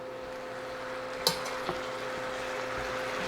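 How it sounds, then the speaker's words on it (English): Beef for lomo saltado stir-fries over high heat with a steady, even sizzle. A sharp utensil clack and a softer knock cut through the frying. "Raise the heat up because I'm trying to stir fry again."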